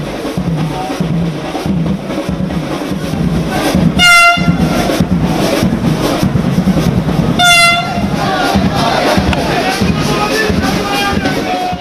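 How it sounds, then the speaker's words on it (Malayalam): A Vande Bharat Express train rolls into the Thiruvananthapuram station with a loud, steady rumble and clatter. Its horn sounds twice in two short blasts a few seconds apart, while voices murmur from the platform crowd. "വൈകുന്നേരം 6 മണിയോടെയാണ് വന്ദേഭാരത് എക്സ്പ്രസ് തലസ്ഥാനത്തെത്തിയത്."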